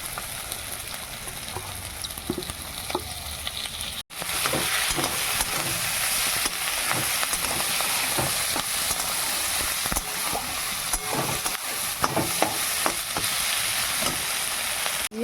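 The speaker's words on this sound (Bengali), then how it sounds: "এবার আমি টমেটো আর কাঁচা লঙ্কাটা দিয়ে দেবো।" Tomatoes and green chillies hit hot oil with already-fried capsicum and onion for a Bengali muri ghonto, setting off a loud, steady sizzle with stirring scrapes after a brief pause at the start.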